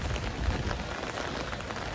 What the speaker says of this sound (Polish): te deszcze to te deszcze to aż pod parasolem